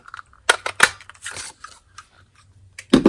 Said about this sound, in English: So I'll go ahead and take the 1 3/8 scallop circle, cut that out.